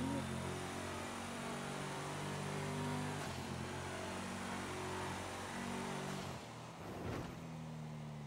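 Coil Brawler off-road car in GTA V climbing Mount Chiliad, a steady droning engine hum with layered low tones held throughout, dipping briefly near the end before resuming.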